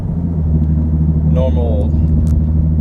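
A Nissan 370Z sports car engine drones steadily with a deep low rumble throughout, while a voice speaks briefly in the middle over the road noise.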